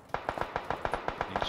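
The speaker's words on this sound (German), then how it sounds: "Links Schüsse." Rapid gunfire in the battle royale game PUBG, about a dozen sharp, evenly spaced shots in quick succession, moderately loud with no talk.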